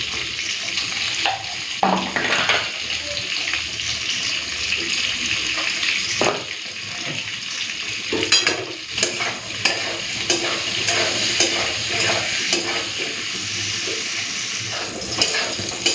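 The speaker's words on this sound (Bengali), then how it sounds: "মাছ ভাজাটা তুলে রেখে দিয়েছি এখন ভেজে নেব বেগুন" Eggplant slices fry in hot oil after fish for a Bengali meal, giving a continuous close sizzle with occasional spatula scrapes and clinks over about sixteen seconds, with no talking.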